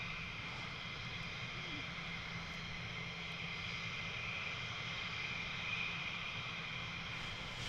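An F-15 fighter jet at RAF Lakenheath makes a steady, broad engine roar that holds at a constant level throughout, with voices faintly mixed in.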